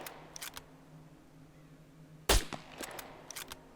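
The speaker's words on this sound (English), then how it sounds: "all we're doing is using the sniper" Sniper rifle shots in a video game: one sharp, loud crack stands out in the middle against a quiet background with a low hum, followed by fainter clicks.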